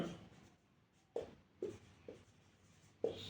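A pen or marker writes a short English sentence by hand, making several distinct strokes and taps in an uneven rhythm. It is close and fairly quiet, with no talking.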